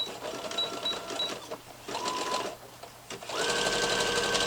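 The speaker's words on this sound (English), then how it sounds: "Let's sew that first." A sewing machine stitches the hems of kids' elasticated-waist shorts in close, loud bursts of rapid whirring, stopping briefly between runs and then running steadily at the end.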